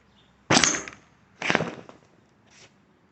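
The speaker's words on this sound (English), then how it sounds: "Let's give it a launch." A paper rocket blasts off a PVC pipe stomp rocket launcher driven by air pressure: one sharp, loud whoosh-pop, then a second burst about a second later and a fainter third puff, with no talking.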